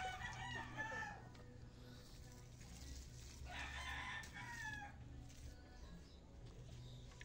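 Chickens cluck and a rooster crows in a backyard while someone feeds them, the crowing bursts rising clearly over a steady low background hum with faint voices.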